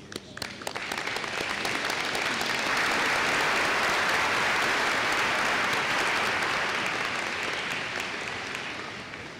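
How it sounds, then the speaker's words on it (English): Audience applause at a spring graduate commencement ceremony swells within the first second into a loud, sustained wash of many hands clapping, then slowly thins toward the end, with no talking. "Please give all of those who have supported you during these important years a round of applause"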